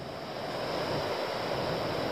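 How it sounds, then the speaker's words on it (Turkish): Sea waves and gusty wind roar continuously at a beach campsite, a dense, steady rush of surf and wind noise with no voices. "Fena esinti var. Dalgalar çok fena."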